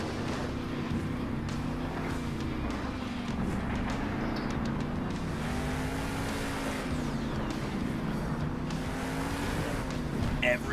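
Monster truck engines in Monster Jam Steel Titans 2 drone and rise and fall in pitch as they race past, loud and continuous, with a commentator talking over them.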